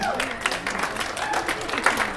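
An audience at a mental health show at Regis University gives a round of applause, moderate scattered clapping with a voice talking over it.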